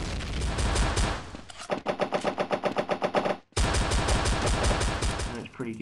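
A gun in the game CopsNRobbers fires a rapid, evenly spaced string of loud, close shots. The string stops abruptly, then heavy gunfire starts again, with speech over part of it.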